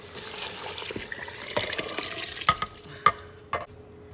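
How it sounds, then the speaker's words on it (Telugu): Washed rice and water go into an Instant Pot for bisibelebath with a soft rush of pouring, then a few sharp clinks and scrapes against the metal, no voices. "ఇప్పుడు ఈ బియ్యం అనేటివి దీంట్లో వేసేస్తున్నాను"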